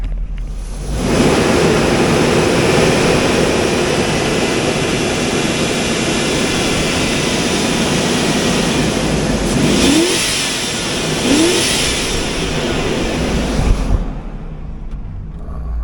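A 2005 Hummer H2 with a 6.0L LQ4 V8 idles steadily while warming up, a loud, even engine drone that starts after a second, holds for about thirteen seconds with a slight rise near the end, then cuts off.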